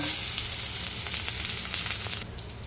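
Chopped garlic sautés in hot cooking oil for a celery and Chinese sausage stir-fry, a loud continuous sizzle with crackling pops that drops away abruptly near the end.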